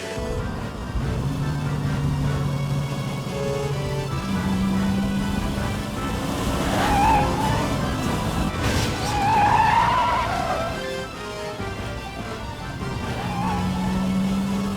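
A cartoon car races fast with squealing, skidding tires over a roaring engine and dramatic background music, the screeches rising and falling through the run.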